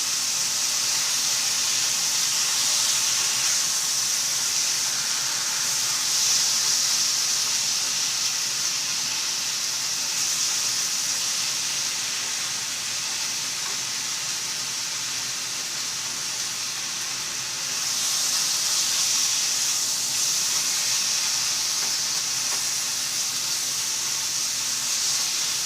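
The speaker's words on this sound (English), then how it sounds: "I'm just slightly sauteing it to cook some of the rawness out of it." Sweet potatoes sauté in a hot pan, giving a steady, close hiss and sizzle with no break throughout, dipping slightly midway before rising again.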